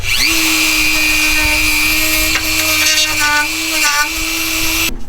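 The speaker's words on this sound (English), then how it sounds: "Now, I'm going to clean all this up with the Dremel brush." A Dremel rotary tool with a brush cleaning up cut metal on an overlanding rig, a close, steady high whine with a slight wobble in pitch that stops abruptly at the end.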